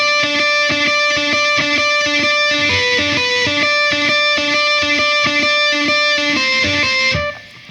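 Distorted electric guitar plays a riff, rhythmic repeated notes with sustained ringing harmonics, loud and close, ending abruptly.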